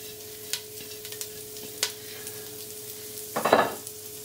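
Broccoli cooking in melted butter in a pan and stirred with a wooden spoon, with a low sizzle under a few sharp scrapes and clacks and a louder stirring scuffle near the end.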